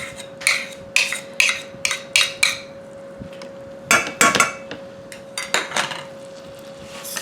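A utensil scrapes and clinks against a pan while garlic is stirred into melted butter for garlic butter steak bites, sounding as a quick series of sharp metallic taps in two bursts over a steady faint hum.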